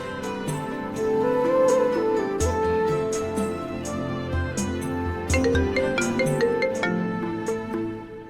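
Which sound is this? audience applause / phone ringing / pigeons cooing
phone ringing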